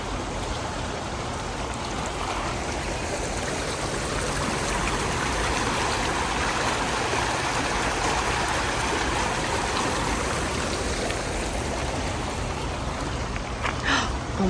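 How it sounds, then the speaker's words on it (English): A creek flows steadily, a continuous broad rushing and trickling of water that stays even throughout, with no voices. "Anyway, look how beautiful the creek is."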